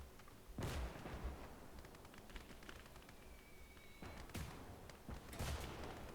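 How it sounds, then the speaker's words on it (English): Gunfire aimed at a field cannon in the World War II video game Gates of Hell, set in a Finland skirmish: several sharp, loud shots and booms spaced out over steady battlefield noise. "Everybody shoot it."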